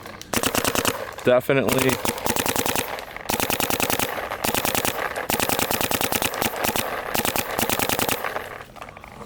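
Rapid bursts of shots from a Dye CZR paintball marker, a beginner marker, fired in quick strings of rhythmic pops across the whole stretch, close and loud with short gaps between volleys and a brief word spoken near the start.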